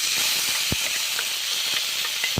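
Ground masala sizzles and bubbles in a capsicum curry, a loud, even hiss close by with small pops and bubbling bursts scattered through it, and no talk.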